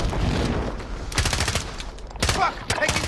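Rapid automatic gunfire from the Call of Duty video game, played on Rebirth Island, rattles loud and close in dense overlapping bursts, with a few sharper shots cutting through the din.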